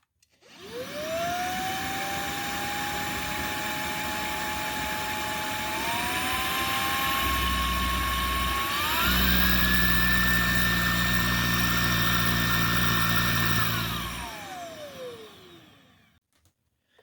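An Oraimo S2 vacuum cleaner runs at maximum suction, a loud steady whine that climbs in pitch in steps, holds high, then winds down near the end, heard close with no talk.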